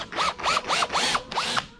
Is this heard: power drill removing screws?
yes